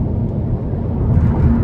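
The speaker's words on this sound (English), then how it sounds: "Now cruising here, wind noise is just a tad prevalent" Steady broadband rush of wind and low road rumble inside a 2013 Nissan Juke SL with a 1.6 turbo four while cruising, loud and continuous with no talk.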